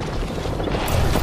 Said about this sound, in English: I set the portal.